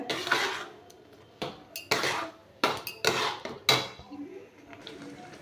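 A spoon scrapes and knocks against a cooking pot as palm pulp and melting jaggery are stirred together over a gas flame, with five or six distinct strokes spaced irregularly, close and fairly clear, and no talking.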